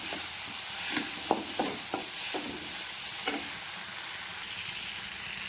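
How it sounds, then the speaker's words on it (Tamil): Tomatoes sizzle steadily in a pan while a utensil stirs and scrapes, giving several soft clacks against the constant frying hiss. "தக்காளியுமே நல்லா வதக்கிக்கலாம்"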